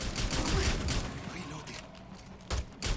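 Gunfire rips through a wall in Rainbow Six Extraction, rapid bursts of shots crackling at moderate distance, trailing off and then returning as two sharper bursts near the end, with voices talking underneath.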